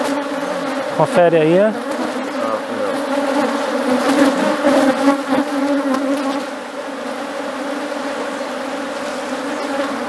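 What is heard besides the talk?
honeybees buzzing around an opened beehive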